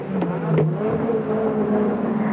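Glenn Seton's touring car flat out down Conrod Straight at about 287 km/h during the 1991 Bathurst 1000 top-ten shootout: a loud, steady, high-pitched engine drone holding one note throughout, with no voices.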